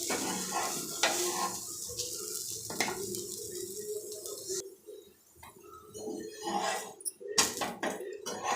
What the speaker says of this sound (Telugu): ఇది రెండు వైపులా కాల్చుకోవాలి దోశలాగా ఒక సైడే కాదు రెండు సైడ్లో బాగా కాల్చుకోవాలన్నమాట